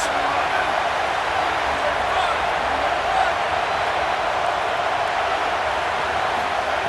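A loud, continuous crowd roar washes through a college football stadium in EA Sports College Football, a broad, unbroken wall of noise with no distinct cheers or breaks.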